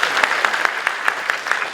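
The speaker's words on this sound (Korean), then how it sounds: "박수로 응답해 주시죠." Audience applause at a book launch event, a short burst of steady clapping from a crowd, close and evenly sustained.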